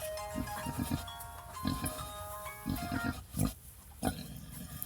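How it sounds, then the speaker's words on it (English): Newborn piglets from a fresh litter grunt and squeal in repeated short bursts, fairly close and moderately quiet, with steady barn background noise and no talking. "I thought the pigs were born on Ashley's birthday."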